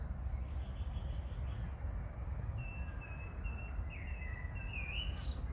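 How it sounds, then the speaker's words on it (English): Several small birds chirp and whistle faintly in the distance among blossoming elderflower shrubs, with short, scattered high calls over a steady low background rumble. "Happy birds."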